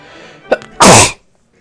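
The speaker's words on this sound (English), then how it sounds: "Oh, let me sneeze." A single loud, close human sneeze in a kitchen, a short sharp intake followed by an explosive burst, then quiet.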